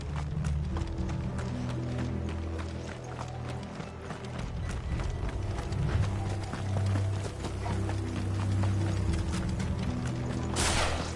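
Horse hooves clip-clop in the video game Final Fantasy XVI: a steady run of sharp, closely spaced clattering beats over a low, droning game soundscape, continuous and fairly loud throughout, with no talking.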